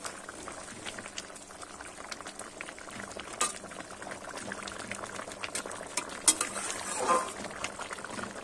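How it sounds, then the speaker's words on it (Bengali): Potato curry with garam masala simmering and being stirred, bubbling with occasional spoon clinks and scrapes at moderate volume, no talking. "এবারে ভালো করে একটু আবারও নেড়ে নেব।"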